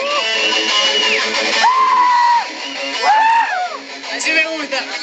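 Festival crowd shouting, whooping and cheering loudly for a garage band on stage, a dense continuous roar of voices with rising yells close by.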